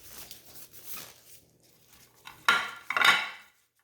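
Sisig bangus ingredients, chopped fish with chili pepper and soy sauce, are mixed in a bowl. Soft clinks and scrapes come first, followed by two louder, close scraping clatters of the utensil against the bowl near the end.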